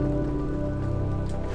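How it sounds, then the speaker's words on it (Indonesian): Heavy rain falling steadily in the Alpine village of Kandersteg, Switzerland, a dense continuous hiss and patter that stays close and even throughout, with no voices. "Masih hujan soalnya agak gede."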